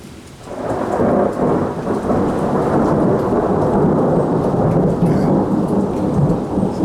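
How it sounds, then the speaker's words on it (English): A loud thunderstorm with heavy rain pounding steadily on surfaces and thunder rumbling through it, continuous and close, with no voices. "Somebody summoned Thor. It's not bright, hot, and sunny here. No, we got a rainy day."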